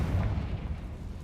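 Confringo fire spell blast in Hogwarts Legacy, a dense low rumbling explosion that stays loud and sustained through the whole moment, with no voices over it.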